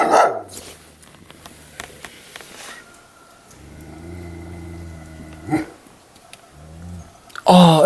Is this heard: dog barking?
yes